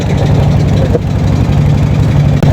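A fishing trawler's engine runs steadily and loudly on a river during a hilsa fishing trip, a constant low rumble with a regular throbbing pulse and no talk over it.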